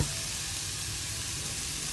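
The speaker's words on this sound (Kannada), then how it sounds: "ಈರುಳ್ಳಿ ಸ್ವಲ್ಪ ಕಲರ್ ಚೇಂಜ್ ಆಗೋದು ಎಲ್ಲ ಒಗ್ಗರಣೆ ಜೊತೆ ಫ್ರೈ ಮಾಡಬೇಕು" A steady, dense sizzle of onions frying in hot oil with tempering, continuous and close, with no voices.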